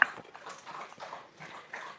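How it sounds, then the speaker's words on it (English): Several dogs bark and yip excitedly at a visitor arriving at a rural home, with rapid, overlapping, fairly close calls that continue without pause. "And dogs get crazy when somebody comes"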